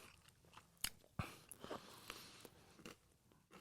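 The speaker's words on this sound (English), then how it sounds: "now we have to wait for you to stop chewing." Someone chews food close to the mic, quiet crunchy bites and wet mastication sounds arriving in irregular bursts, with a couple of sharper crunches standing out against a soft background.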